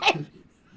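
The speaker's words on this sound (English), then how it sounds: "That was a dog." A dog-like creature in a horror video game lets out one sharp, loud bark that trails into a short rough tail and then near silence.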